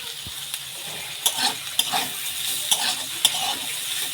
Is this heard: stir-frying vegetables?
yes